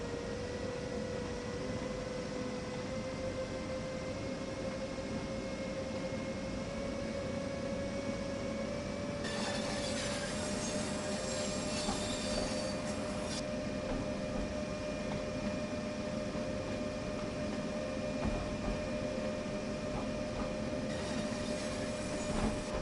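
Steady low rumble and motor hum of a train accelerating on the Ruhr-Sieg Nord line in Train Sim World, with a bright hissing burst partway through, continuous and close, with no talk.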